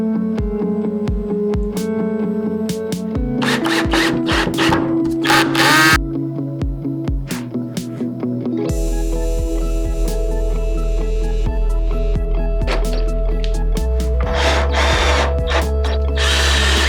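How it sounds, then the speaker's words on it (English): A power drill drives screws down through the top of a reclaimed pallet wood outdoor patio table, giving repeated short whirring bursts that rise and stop, close and loud, with clattering of boards and tools between runs. "So screwing it in from the top was the fastest and best option."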